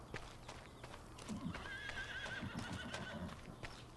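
Horses on a ranch in a farming video game, faint hooves clip-clopping in a steady rhythm while one horse gives a drawn-out whinny through the middle.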